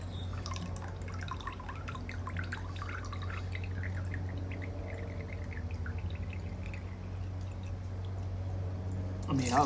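Water runs out of a freshly cracked coconut in a steady trickle with dripping, near and continuous, over faint background voices.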